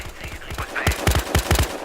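Rapid automatic gunfire in the multiplayer shooter Battlefield Hardline, loud bursts of evenly spaced shots that rise from a busy game background into a steady rattle.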